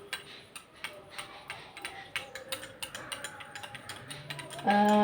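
A metal gate latch rattles and clicks in rapid, uneven bursts, close up, ending in a louder clatter.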